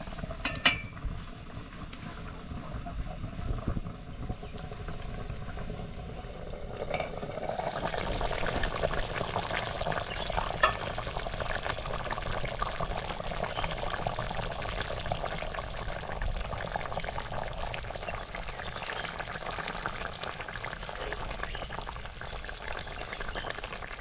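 Kanta fish curry simmers in a covered pot, a faint steady bubbling hiss that grows slightly fuller after the first few seconds, with occasional small clicks and no talking.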